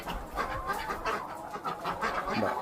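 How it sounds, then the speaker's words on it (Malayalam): Quails in a net enclosure on a farm in Dallas give off a steady stream of close, overlapping clucks and chirps lasting the whole stretch, with no talking. "ഇനി എന്താ കാടക്കോഴി ഉണ്ടല്ലേ? നെറ്റിനകത്ത്."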